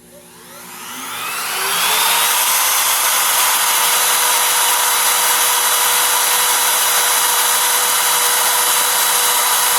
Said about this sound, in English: as soon as I send the code from the program, the router should fire up